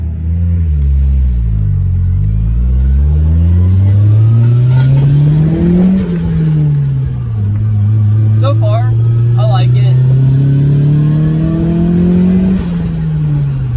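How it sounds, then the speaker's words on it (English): A turbocharged Nissan 240SX engine revs and accelerates through several gear shifts, rising and falling in pitch, loud and close, with someone speaking briefly over it. "You can really hear my turbo and stuff now."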